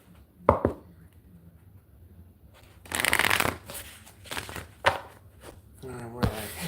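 A deck of oracle cards is handled and shuffled at close range, with a brief riffle, then a longer flurry of papery flicks and a few sharp taps, against a quiet room and a little speech.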